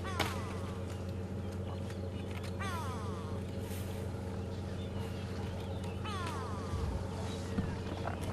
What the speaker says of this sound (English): Can hear a grey go-away bird in the tree close by.